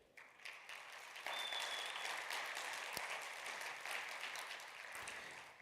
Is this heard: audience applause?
yes